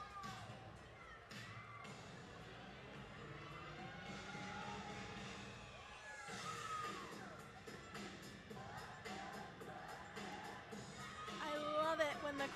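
A crowd cheers and whoops at a college gymnastics meet, BYU at Southern Utah, with a steady wash of voices and scattered claps that swells near the end, heard from within the arena.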